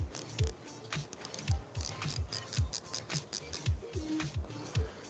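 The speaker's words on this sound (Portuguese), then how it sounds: "vai girar na catraca" Ratchet on the thimble of a micrometer clicking as it is turned, a quick series of faint, close, rhythmic ticks with small pauses between turns.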